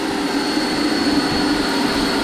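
The electric ducted fan of an RC MD 600N helicopter hovers in ground effect, giving off a loud, steady, high-pitched whine with a constant tonal hum and no pauses.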